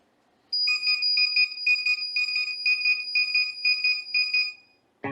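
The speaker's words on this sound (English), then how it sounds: "It will start beep on me and it will show here full when it's gonna be fully charged." An RC car battery charger beeps when full, a rapid series of about a dozen sharp, high-pitched electronic beeps. The beeps are close and clear over near silence.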